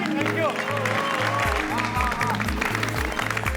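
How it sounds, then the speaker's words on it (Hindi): Audience applause for a performance at a Ganesh Chaturthi celebration in the Taarak Mehta Ka Ooltah Chashmah society, a steady wash of clapping running throughout alongside music with a rhythmic bass beat and voices talking over it. "इनके लिए जोरदार ताली हो जाए"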